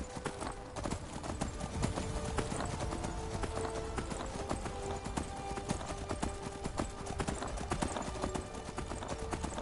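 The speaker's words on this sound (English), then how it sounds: "Onto the horse." Steady clip-clop of galloping hooves over a constant background rumble, with game-like ambience throughout, from a horse in the video game Skyrim.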